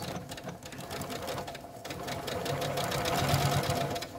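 A sewing machine back stitching pleats on a fabric face mask: a close, steady rapid needle clatter that runs continuously and grows slightly louder toward the end.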